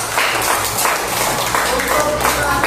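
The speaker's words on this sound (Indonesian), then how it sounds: "tepuk tangan dulu buat semuanya" A class of pupils claps together, a busy, fairly loud patter of hands with uneven rhythm, mixed with faint voices and background noise.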